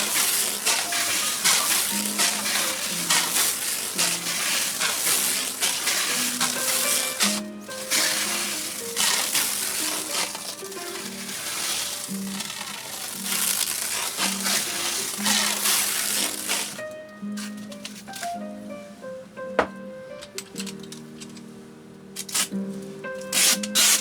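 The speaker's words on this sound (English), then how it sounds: "You'll see me work my way up, and then I work my way back down again, just to crisscross that stretch wrap," Stretch wrap film is wound around a vintage sewing machine in a bentwood case, a steady close rubbing and crinkling that continues throughout, with occasional squeaks and crackles as the film pulls tight.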